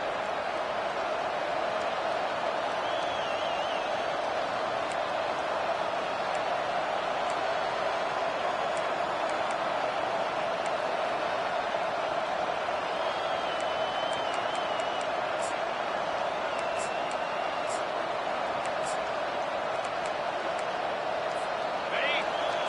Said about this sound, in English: you can give all the credit to the crowd for that one